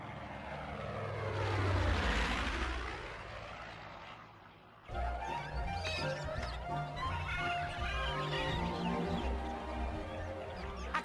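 A propeller airplane in flight swells in loudness as it passes, peaks, then fades over about five seconds before other busy sounds take over.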